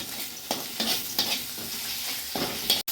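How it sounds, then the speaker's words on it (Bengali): Spices sautéing in a pan for a fish dish, a close steady sizzle broken by several scraping stirs of a spoon and a sharp clack near the end. "এই সমস্ত মশলা দিয়ে আমি সুন্দর করে কষিয়ে নেব।"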